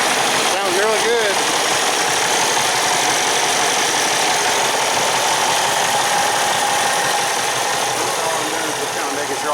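A Freightliner Cascadia truck engine idles steadily after starting, a loud, continuous diesel rumble with a brief burst of voice near the start.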